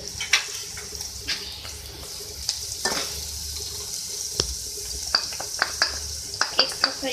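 Green onions are stirred in a frying pan with salt and turmeric, soft sizzling under repeated sharp clicks and scrapes of a spoon against the pan, fairly quiet and close.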